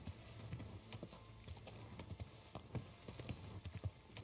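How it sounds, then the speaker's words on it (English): A horse's hooves clip-clop steadily in Kingdom Come: Deliverance II, a medieval video game, with a close, continuous rhythm of footfalls over a low ambient background. "There was a horse just hanging out over there."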